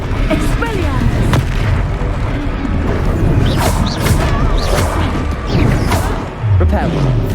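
A spell-casting blast in the video game Hogwarts Legacy amid combat, loud booms, crashes and whooshing impacts in quick succession, with game voices shouting over the fray.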